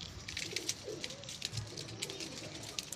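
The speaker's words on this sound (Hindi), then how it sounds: "आज मैं आपके लिए एक बहुत ही खूबसूरत और उमदा पट्टी वाले कबूतरों की ब्रीड आपकी खिदमत में लेके आया हूं" Surkhay Dabbay pigeons, an old breed, give soft, low rolling coos close by, overlapping with light chirps and rustling throughout, with no speech.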